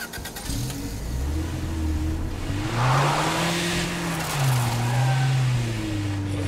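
A car in the video game State of Decay 2 drives along with its engine droning and rising and falling as it accelerates, steady and close throughout; no clear tire squeal stands out.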